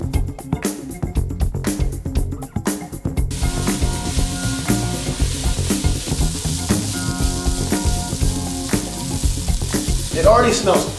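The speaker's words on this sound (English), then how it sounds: "It already smells awesome in here with these veggies sauteing." Red and yellow peppers, onions and garlic sautéing in a soup pot, a loud continuous sizzle with stirring scrapes, briefly clattery at the start and with a brighter spit near the end.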